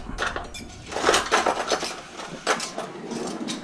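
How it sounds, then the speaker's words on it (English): Cutlery and dishes clatter and clink at a meal where skewers are being served, a busy series of close metallic and ceramic knocks and scrapes with no talking. "Get some cutlery."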